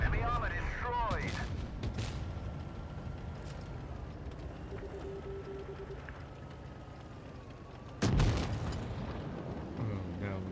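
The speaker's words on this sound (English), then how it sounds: "Penetration. Enemy armor destroyed." Tank cannon shell strikes and pierces enemy armor in the mobile game World of Tanks Blitz during a professional tournament match: a loud, sharp impact boom near the end cuts through a steady rumbling battle ambience with muffled background sounds.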